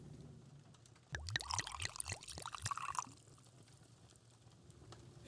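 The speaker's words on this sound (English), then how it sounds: "let me pour you another drink" A drink is poured into a glass in a quiet room: about two seconds of gurgling liquid with a rising fill tone, then a soft faint trickle before it fades to near silence.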